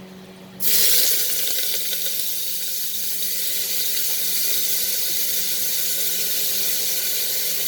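Dried red chilies and chopped onions hitting hot oil in a pan burst into a loud, sudden hiss that then settles into a steady, continuous sizzle, close by and with no talking.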